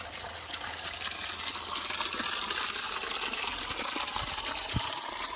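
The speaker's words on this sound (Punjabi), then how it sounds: "ਹੁਣ ਆਪਾਂ ਅੱਗੋਂ ਕਰ ਦਈਏ ਪਾਣੀ ਮੂਵ ਇਧਰਲੇ ਪਾਸੇ ਨੂੰ" Irrigation water gushes steadily through a field channel on a farm, a continuous faint splashing flow with a light engine hum underneath and no speech.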